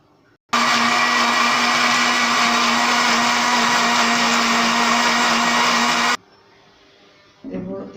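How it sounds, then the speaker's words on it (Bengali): An electric blender whirs at full speed, blending banana lassi. The loud, steady motor drone starts abruptly, holds for several seconds, then cuts off, followed by quiet clinking and handling sounds. "এবার আমরা এটা লেগে দেব ভালো করে এবং ব্লেন্ড করে নেব।"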